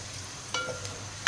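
Cumin seeds sizzling in hot oil in a pan, a soft crackling hiss with a couple of sharper pops and a brief stir, close by with no voices.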